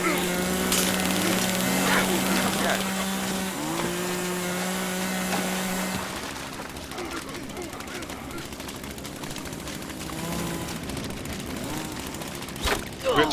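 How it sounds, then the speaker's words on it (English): Double chainsaw in the video game The Culling buzzes steadily at first, then cuts out, leaving scattered clattering and game noise. "The double chainsaw."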